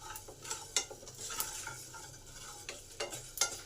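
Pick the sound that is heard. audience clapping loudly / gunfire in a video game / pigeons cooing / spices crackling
spices crackling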